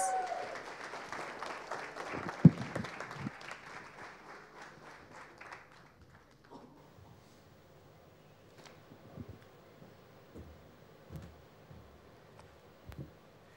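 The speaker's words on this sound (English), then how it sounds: "Mr. Amarjeet Singh Batra, with a round of applause." Audience applause fills a conference hall as a managing director is invited on stage, loud dense clapping for about six seconds that fades out, followed by quieter room noise, scattered thumps and footsteps.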